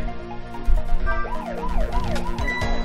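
A wailing electronic siren in the game Ghost Trick: Phantom Detective rises and falls repeatedly over a steady hum of game background sounds, loud and continuous.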